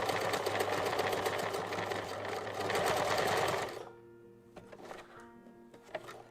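A sewing machine stitches fabric scraps into coasters with a fast, steady mechanical whirr for about four seconds, then stops, followed by a few light clicks and handling sounds.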